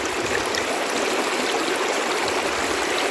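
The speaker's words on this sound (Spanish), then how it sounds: "Y el agua, con toda su fluidez, suena, mira, escúchala." Water in a stream flows steadily and continuously, a dense close rushing wash with no pauses and no voices.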